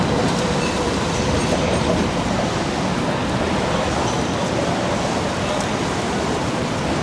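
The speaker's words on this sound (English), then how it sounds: "That sound of the cars driving over the light rail tracks reminds me of Melbourne so much." Cars roll over light rail tracks on a Sydney street, giving a loud, continuous rumble with a rattling clatter from the rails that holds steady throughout.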